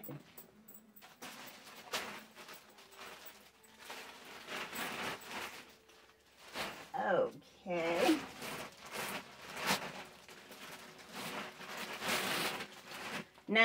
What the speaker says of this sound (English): this one here is a zipper for the bag. It zips all the way around.